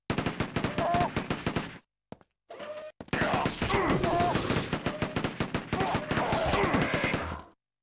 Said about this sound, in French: mais vous avez aussi une machine gun